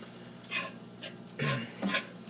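A fork stirring flour into sausage frying in a pan, three distinct scraping strokes against the pan with quiet sizzling between them.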